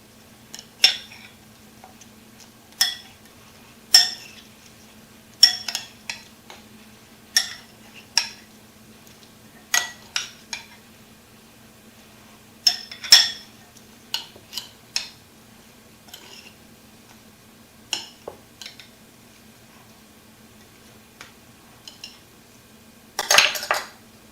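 Spoon clinks and scrapes against a bowl while cucumber slivers and red onion are stirred for a sweet cucumber salad, sharp taps in a loose irregular rhythm, close and clear over a quiet background.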